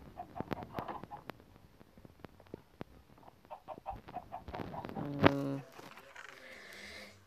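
Chickens clucking on a farm in a video game survival world, a series of short, scattered clucks and chirps at moderate level with a brief sharper squawk near the end.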